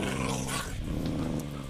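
A tamed Minecraft wolf dog growls in a video game, a continuous low rumbling snarl, loud and dense throughout, with no talking over it.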